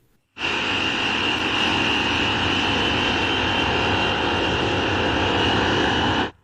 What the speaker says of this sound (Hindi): और वह सिर्फ एक विमान नहीं था, बल्कि दो थे जो साथ में उड़ते हुए सऊदी अरब के प्रिंस सुल्तान एयर बेस की ओर जा रहे थे।